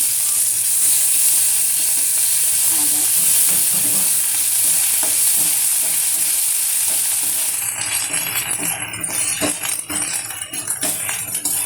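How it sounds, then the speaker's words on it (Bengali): Ginger sizzles and fries in a hot wok with cumin, with steady loud crackling and scraping stirs throughout, the stirring growing more uneven and clattery toward the end. "কড়াইতে দিয়ে দিলাম আদা।"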